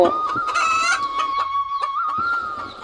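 A rooster crows loudly and close by, with hens clucking in short bursts around it.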